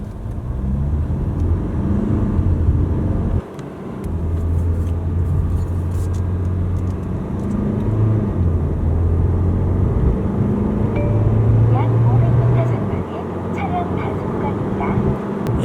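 Mercedes C200d, 136 hp diesel sedan in Sport Plus mode, with a steady engine drone and road rumble heard from inside the cabin for the full stretch, the engine note rising and shifting as it pulls through gears.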